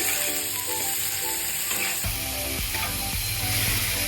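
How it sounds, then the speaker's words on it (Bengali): Shrimp fry in hot oil with a loud, close sizzle that jumps to a heavier hiss partway through, mixed with rhythmic scraping from stirring in the pan; no voices. "আমি চিংড়ি মাছটাকে ভেজে নিচ্ছি"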